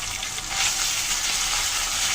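Ginger and cumin paste with green chilli fries in oil in a pan, giving a short burst of bright, dense sizzling hiss that stays steady and close, with no speech.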